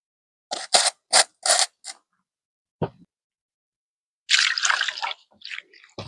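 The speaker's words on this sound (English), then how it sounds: "I wash them off. Dip in little salt." Vegetables for Jamaican ital steamed vegetables are rinsed in salt water, giving a series of short splashy swishes and drips, then a pause and a longer watery splash, fairly close and quiet.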